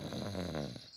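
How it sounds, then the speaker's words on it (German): A cartoon pig snores in a single close, rumbling, drawn-out breath that fades out, heard alone at low volume. "Es klingt wie Papas Schnarchen."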